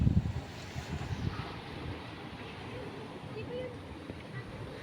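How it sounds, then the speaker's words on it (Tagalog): A small outrigger boat (bangka) on open water off Burias Island, with a low steady wash of waves and wind rumbling against the microphone, strongest in the first second and a half, while voices talk faintly in the background. "Yung bangka naman namin, yan."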